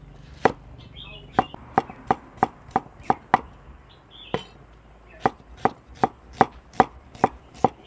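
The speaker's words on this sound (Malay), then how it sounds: "Bawang pun hiris lagi lah." A knife slices onions sharply on a board: two quick runs of evenly spaced, crisp thuds, close and loud, with a short pause between them.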